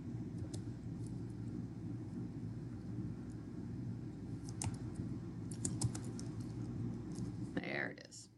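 A name is typed on a computer keyboard, producing quiet, scattered clicking keystrokes in short bursts over a low background hum, with a soft voice faintly present.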